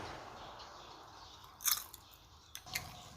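Crispy fried sago palm weevil larvae being bitten and chewed up close, a couple of sharp crunches followed by softer chewing, quiet and alone without talk.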